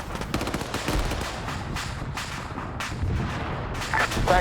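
Battlefield fire in the military game The Russia 2020, with mortar rounds among a dense barrage of shots and booming impacts in close, loud, irregular bursts, without speech.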